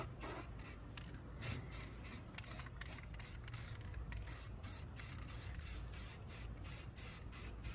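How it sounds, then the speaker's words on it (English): Spray can laying a coat of primer over welded rust-repair patches on a car body, a steady close hiss broken into repeated short bursts with brief gaps, no voices. "get it with another coat of primer here."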